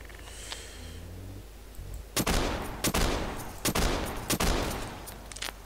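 Video game gunfire in Garry's Mod: about five sharp loud shots at irregular intervals, ringing out after a quieter opening with faint tonal sounds and low background hum.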